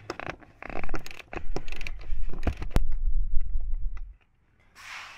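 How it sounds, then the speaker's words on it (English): A Jeep Wrangler JL seat slides forward on its rails, with a series of close mechanical clunks, creaks and ratcheting knocks in bursts, followed by a brief pause and a soft rustle. "just pull your seat forward more"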